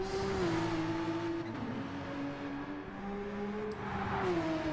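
A Porsche race car roars through a racing video game lap of the Nurburgring endurance circuit, its engine droning steadily with shifting pitch as it climbs and drops through gears, loud and continuous with no talk.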